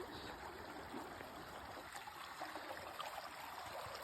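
A mountain stream on the John Muir Trail flows in a steady, close wash of broadband water noise, continuous and even throughout with no talking.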